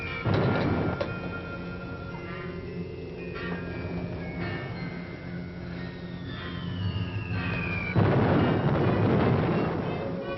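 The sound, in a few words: bombing explosions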